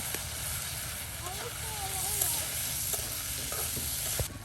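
Onion and garlic fry in a pan for a dried-fish bharta, a soft, continuous sizzle heard fairly quietly, with a faint voice briefly over it partway through.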